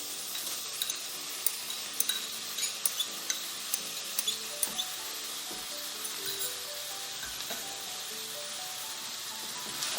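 Taco meat and onion fry in a pan, a soft steady sizzle broken by frequent light scrapes and taps of a stirring utensil, close but fairly quiet, with no talking.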